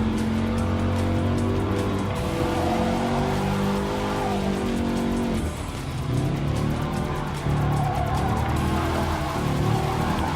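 Race car engines roar steadily in Gran Turismo Sport, with an Abarth 500 compact among the field, loud and continuous with tire squeal and a brief dip in the middle, no talking.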